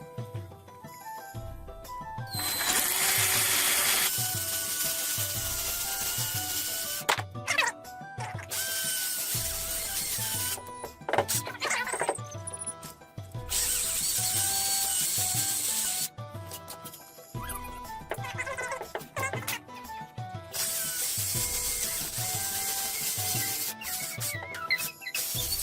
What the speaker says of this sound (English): Now the next step is to round off our cuts we did with the jigsaw.